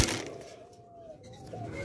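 A dove gives a soft, low coo from a cage of doves and cockatiels, one brief call rising over faint room noise.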